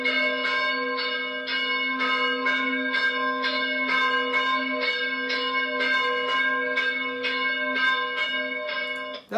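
Church bells in Syria ring in a steady, continuous peal with rhythmic repeated strikes over a sustained low hum, clear and fairly close, no voices.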